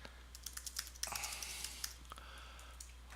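Computer keyboard typing while a reply is entered on a discussion board, a quiet run of uneven key clicks with brief pauses, close to the microphone, with no talking.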